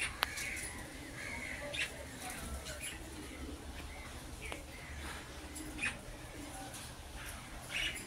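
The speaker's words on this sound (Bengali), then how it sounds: "এক খাঁচার মধ্যে তিনটা পাখি আছে" Pet birds kept three to a cage give faint, scattered calls and coos over a low background murmur, with brief wing flutters now and then.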